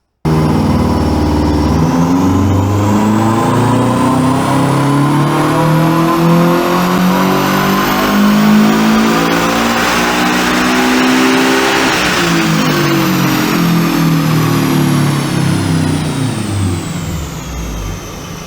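A Toyota 86 with a catback exhaust, stock air intake, unequal-length headers and a custom tune revs hard on a dyno, a loud, continuous engine note climbing steadily through the gears for the whole run before easing off near the end.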